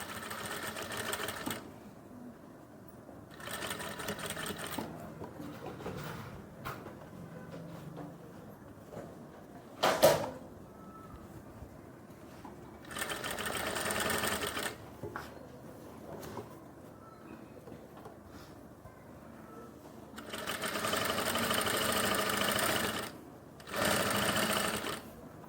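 Sewing machine stitching the pocket seam of women's pants, running in several bursts of steady whirring between pauses, close and fairly loud, with quieter handling sounds in the gaps.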